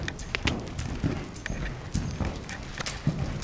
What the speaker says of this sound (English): Canter, Zen.